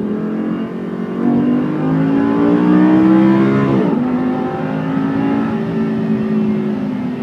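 A Lamborghini Superleggera V8, which revs to 9,000 RPM, climbs in a loud, close engine rev with a rising harmonic whine. The pitch drops sharply midway, then the engine pulls again and holds a strong drone.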